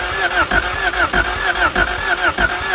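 A Honda Civic EG with a B16A2 engine cranks without firing: a steady, rhythmic starter churn pulsing about four times a second, close and loud, never catching.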